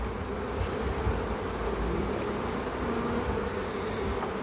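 Honey bees in an open hive colony drone in a steady, dense buzz that stays close and even throughout, with no voices over it.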